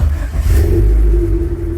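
A Honda engine with an OBD0 multi-port fuel injection conversion catches and rumbles loudly at close range, settling into a steady idle with a low throb.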